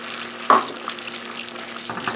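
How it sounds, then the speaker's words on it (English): Melted butter and brown sugar sizzle in a pan with a soft, steady frying hiss, opening with one sharp clink before the sizzle continues alone with no talking. "the butter has melted and starting to sizzle"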